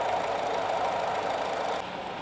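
A 2016 Honda Mobilio RS with a 1.5-liter VTEC gasoline engine idles in a steady, quiet, even hum. The engine sound stays constant with no revving.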